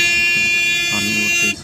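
A vehicle horn near an auto-rickshaw on a street gives one long continuous buzzing honk, close and loud, before cutting off abruptly.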